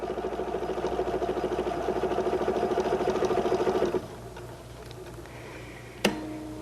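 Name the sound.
Husqvarna Viking #1 sewing machine doing Omnimotion directional stitching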